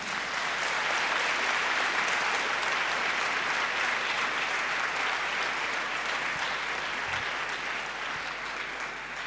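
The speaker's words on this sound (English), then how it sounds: "Come on, clap. Let me hear you clapping." A large university audience claps steadily together, a dense, loud wash of applause that holds evenly for the whole stretch and eases only slightly near the end.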